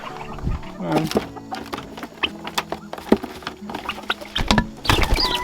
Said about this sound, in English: Here in our pheasant coop, we've got a lot of extra pheasants that we hatched out this year